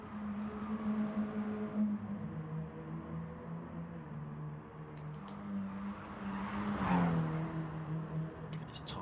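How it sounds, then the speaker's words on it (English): A Mini Cooper race car pulls out of the pits during a Mini Cooper Cup round, its engine a steady droning hum with a rising rev near the end, at moderate distance and fairly quiet. "Pajonsky just leaving the pits, looking for that first timing mark, so he can regain that pole position"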